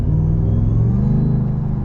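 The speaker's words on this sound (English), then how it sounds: "You can hear the supercharger so much, and I am barely getting on it." Supercharged engine of a 2020 Ford F-150 Harley Davidson Edition lifted truck, a loud, deep, steady rumble with a rising whine layered on top at light throttle, close and continuous with no talk.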